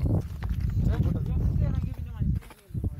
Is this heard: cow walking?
yes